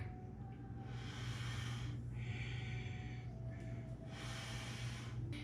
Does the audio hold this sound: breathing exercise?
yes